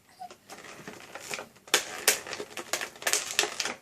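Dull scissors struggle to cut through plastic packaging on a pair of Star Wars headphones: irregular close-up snipping and crunching clicks in bursts, growing louder and more frequent partway through.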